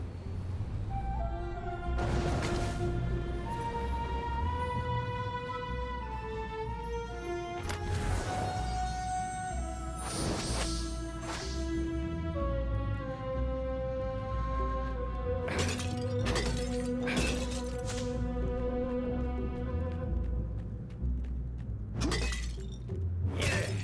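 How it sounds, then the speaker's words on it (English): Objects smashing and shattering in a video game, a steady stream of crashing breaks and glassy shatters over a bed of layered background music, with clustered bursts of impacts throughout. "Smashing things was fun."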